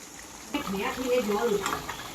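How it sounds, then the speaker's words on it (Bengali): Spice masala frying in a pan for chicken curry, stirred with a spatula: a soft, steady sizzle with scraping strokes starting partway through, close and moderately loud, with a faint tonal hum underneath. "অন্যদিকে মশলাটাও ভালো করে কষছে"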